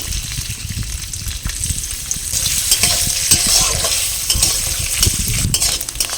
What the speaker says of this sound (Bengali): এগুলো গরম তেলে হালকা ফ্রাই করে নেব।